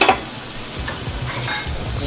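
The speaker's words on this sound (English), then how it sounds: "I'm going to add a little bit of Worcestershire sauce. Just kind of gently warm them through." Crab claws warm gently in a pan with Worcestershire sauce, making a close, low sizzle with light stirring and scraping sounds, and no speech.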